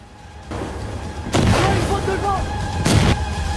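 Shotgun blasts in the video game Insurgency Sandstorm, two heavy booming shots about a second and a half apart, each followed by a rumbling tail, loud and close over background game ambience.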